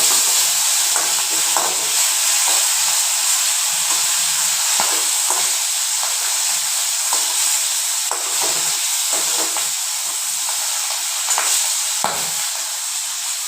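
Magur catfish frying in hot oil: a steady, loud, close sizzle and hiss that runs unbroken throughout, with faint pops and spatters and no voices.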